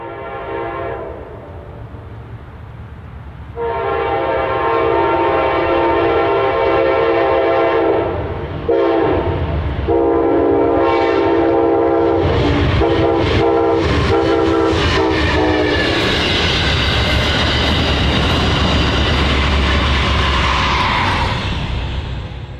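An Amtrak Wolverine passenger train rumbles past close by in Michigan City, sounding a loud sustained horn several times, the rolling noise of the cars building as it goes by.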